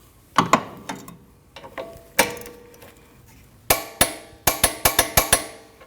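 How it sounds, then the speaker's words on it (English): A torque wrench tightening a rear shock mount bolt on a 2013-2019 Ford Escape, sharp metallic ratchet clicks in uneven clusters, ending in a quick rhythmic run of close, loud clicks. "Now you can torque that bolt down to 85 foot-pounds."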